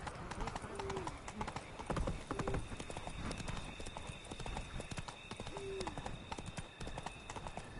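Roach the horse gallops in The Witcher 3, rapid rhythmic hoofbeats pounding close and steady, with brief whinnies over a constant game backdrop and some talk.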